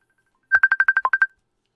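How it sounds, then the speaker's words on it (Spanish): A telephone rings during a church sermon, a quick electronic burst of about eight evenly spaced beeps, clear and close, then silence. "Está sonando el teléfono."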